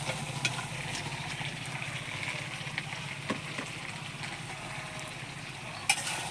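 Chicken and papaya frying in a pan, a steady soft sizzle that runs throughout with faint occasional clinks, fairly quiet and without talk.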